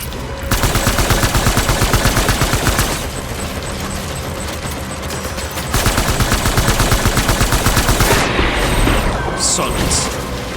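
Sustained rapid gunfire from the video game Death Stranding, loud and dense bursts of automatic fire with booming impacts, briefly easing mid-clip before resuming at full intensity.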